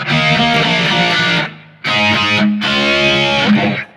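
Electric guitar played through a BOSS eBand JS-10 with a chorus tone and heavy distortion, three loud sustained strummed chords separated by short gaps.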